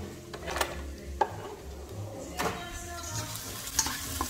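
Garlic and onion fry in a pan for sambal goreng tempe, giving a low, steady sizzle under sharper clinks and scrapes of a utensil stirring against the pan, with a few isolated louder knocks.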